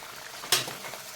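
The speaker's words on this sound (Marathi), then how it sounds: "मी माझ्या सर्व पुऱ्या तळून घेणार आहे" Wheat flour pooris deep fry in oil, a soft, close hiss of bubbling oil with one brief, sharp crackle midway through the short moment.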